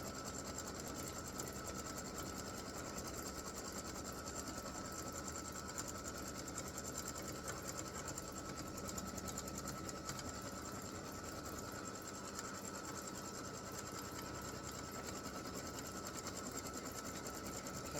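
An embroidery machine stitching an applique Christmas gnome design runs steadily and close by, a continuous rapid mechanical whir with a high needle hum, no pauses and no voices.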